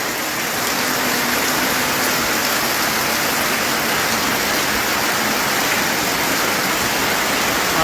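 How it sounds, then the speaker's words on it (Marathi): Heavy monsoon rain pours down on Vaibhavwadi town in Sindhudurg, a loud, dense and unbroken roar of falling water with no voices. "आता मात्र मुसळधार पाऊस वैभववाडीत कोसळत आहे."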